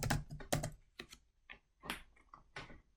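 Fingers type a note on a computer keyboard in a quick, uneven run of close, crisp key clicks, with short pauses between bursts and no voices.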